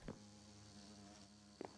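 Bees from the Productive Bees modpack in Minecraft drone in a steady, continuous buzz throughout, with brief louder taps or clicks at the start and near the end.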